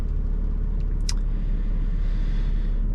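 BMW F82 M4 driving through a rainy city, a steady low engine and road rumble with tyre hiss throughout, close and continuous, with a brief higher whine near the middle.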